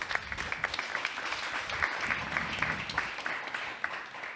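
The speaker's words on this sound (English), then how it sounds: "Maria-Lisa and Lina, an applause, please." Applause from a conference audience thanking two panelists at a European forum on social economy and AI, a steady moderate wash of many hands clapping with no talk over it.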